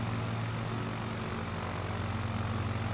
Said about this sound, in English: I'm used to the engine noise being much louder